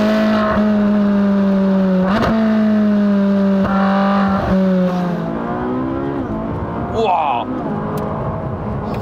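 Ferrari 458 Speciale engine driven hard, a loud close-up revving howl with sharp gearshift breaks and climbing pitch, followed by a quieter, lower running drone.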